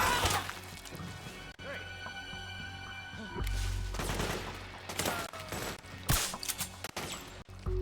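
Rapid gunfire and crashing impacts from a firefight in the video game Metal Gear Solid 4: Guns of the Patriots, with loud bursts and heavy thuds overlapping in a dense, continuous battle mix, plus a bit of shouted talk.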